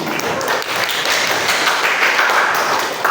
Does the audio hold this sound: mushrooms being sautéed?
no